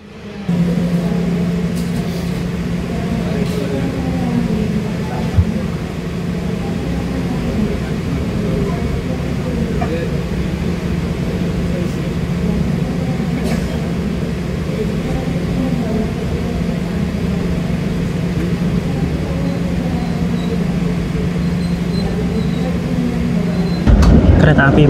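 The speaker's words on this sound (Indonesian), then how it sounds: "Kereta api Motis sudah diberangkatkan dari stasiun Purwokerto menuju ke stasiun Lempuyangan Yogyakarta" Motis Lebaran passenger train riding from Purwokerto toward Lempuyangan, Yogyakarta, heard from inside the carriage as a continuous low rumble and steady hum, with faint clicks and a voice speaking over it.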